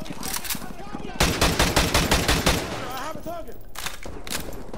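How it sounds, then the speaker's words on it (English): Heavy automatic gunfire from the Modern Warfare 2 Remastered video game, a loud rapid burst of shots over continuous battle noise, with a voice briefly heard amid the firing. "We're taking heavy fire from the school."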